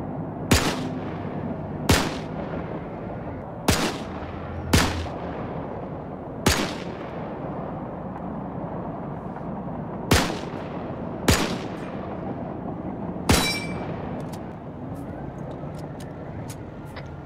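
Gunfire in the 82AD Liberation video game: about nine single sharp shots at irregular intervals, some close and loud, others more distant, over a steady rumbling battlefield background.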